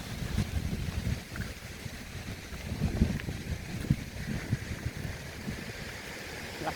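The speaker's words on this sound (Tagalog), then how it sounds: "Lakas ang hangin ngayon kasi may bagyong dumating" Steady, blustery typhoon wind buffets the microphone, with gusty rumbling and faint rustling throughout, and no one speaking.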